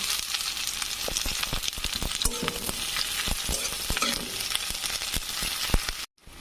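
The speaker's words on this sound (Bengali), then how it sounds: "পেঁয়াজ ভাজা হয়ে গেছে" Chopped onion and green chilli frying in a pan, a dense steady sizzle with frequent sharp clicks and scrapes of stirring, cut off abruptly at the end.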